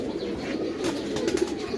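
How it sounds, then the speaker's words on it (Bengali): Two pigeons, one black-necked and one brown-necked, coo softly in a cage at dusk, a short, low, murmuring call over faint background noise. "এই যে আমি দুটা কবুতর এখন একসাথেই রাখছি এখানে দেখেন"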